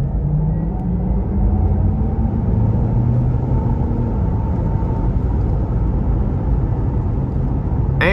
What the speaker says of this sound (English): We'll give it some throttle here from about 40.